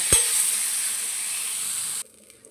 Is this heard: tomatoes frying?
yes